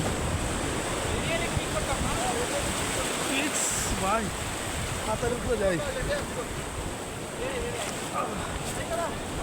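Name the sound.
sea waves crashing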